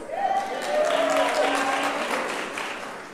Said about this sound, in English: I knew you would applaud that.